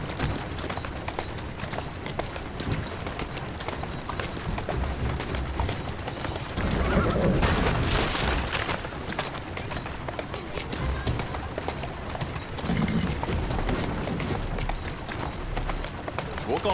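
Horse hooves pound at a run through a street scene in Assassin's Creed Syndicate, a busy mix of galloping, game ambience and a brief louder burst mid-way, with someone talking over it.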